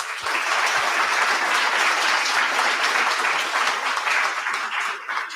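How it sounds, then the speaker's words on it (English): A crowd at a federal election campaign launch claps for volunteers, dense steady applause sustained throughout at full loudness. "Big round of applause for our volunteers."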